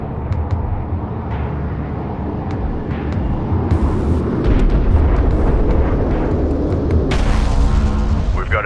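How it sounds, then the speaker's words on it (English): Cruise missile firing and impact in the strategy game Homeworld: Deserts of Kharak: dense rumbling battle roar that swells into a heavy, loud explosion around the middle, with sharp crackling bursts near the end. "Target set, missile away."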